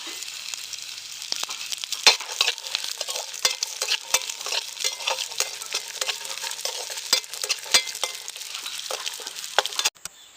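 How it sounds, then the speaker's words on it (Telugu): Cashews and raisins frying in a spoonful of ghee for rava laddu, a steady crackling sizzle with frequent sharp pops and spatters, close and continuous for about ten seconds before cutting off abruptly near the end. "స్పూన్లో నెయ్యి వేసానండి జీడిపప్పు వేస్తున్నాను దోరగాను కిస్మిస్లండి"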